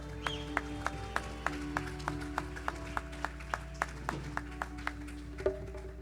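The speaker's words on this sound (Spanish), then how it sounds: "Dale un aplauso al Señor." A church congregation claps in a steady rhythmic beat, sharp evenly spaced hand claps repeating roughly every quarter second over a low sustained hum of music, moderately loud and without talk.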